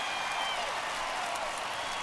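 Baseball crowd at Busch Stadium during a Padres vs Cardinals NLCS Game 4, cheering and applauding as an inning ends on a strikeout; a steady, dense wash of distant crowd noise and clapping, with no clear individual voices.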